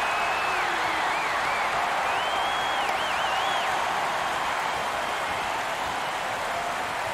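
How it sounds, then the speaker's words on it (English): Steady, dense applause from a crowd at the NBA draft event in the NBA 2K21 video game, with whistles rising over the clapping and filling the whole stretch at an even loudness. "Who's clapping?"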